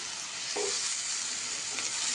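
Tandulkundra leafy greens sautéing in a kadhai, a steady close sizzle and hiss of frying with a couple of brief stirring scrapes, no voices.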